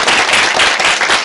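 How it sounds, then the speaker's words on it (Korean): Parents at a school education seminar clap loudly to welcome the presenter, a dense burst of close applause that fills the whole brief moment. "큰 박수로 저를 맞이해 주시면 감사하겠습니다"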